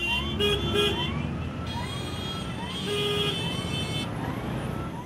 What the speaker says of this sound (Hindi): लगा रोड पर एम्बुलेंस रेंग रही है